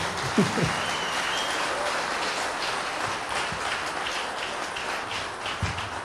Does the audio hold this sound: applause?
yes